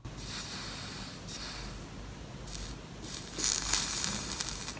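Soft crackling sizzle with bursts of bright hissing that swell and fade, a faint bubbling boil of capacitors in a faulty AllPowers AP-SS-007 (S700 V2) charging station, heard close up with no talking.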